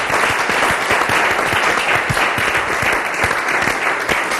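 An audience applauds a testimony at a Christian gathering, with dense, loud, sustained clapping that continues evenly from start to finish.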